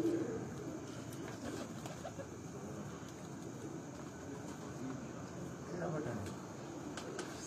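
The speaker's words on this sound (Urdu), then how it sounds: "انہیں کبوتر میں دوستو جو چودھری صحیح بٹیسا والے ماشاء اللہ کبوتر ہیں" Pigeons cooing inside a loft cage, soft low coos repeating over a quiet rumbling background with faint rustles, fairly distant and gentle.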